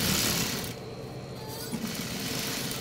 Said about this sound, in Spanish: Le tiramos un prepunte para fortalecer esa costura.